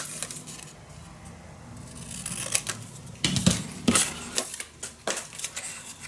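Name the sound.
scissors cutting craft paper for a folio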